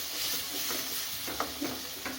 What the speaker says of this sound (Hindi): अब मेथी को हल्दी के अंदर भुनना है